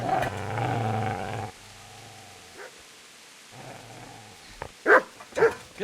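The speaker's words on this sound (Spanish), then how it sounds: "Ahí está el perro." A dog barks in the medieval game Kingdom Come: Deliverance, a few loud close barks near the end after a stretch of low droning game sound.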